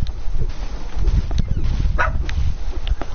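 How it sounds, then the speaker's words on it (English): A dog barking in a video game, a few short, muffled barks over a dense low rumble of game noise, with no one talking. "My dog is barking."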